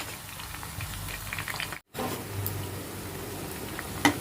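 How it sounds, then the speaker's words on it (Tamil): Chicken Manchurian pieces fry in a pan while browning on both sides, giving a soft steady sizzle and bubbling with a brief gap, heard close and fairly quiet. "2 சைட்லும் நல்லா ரோஸ்ட் ஆகட்டும்."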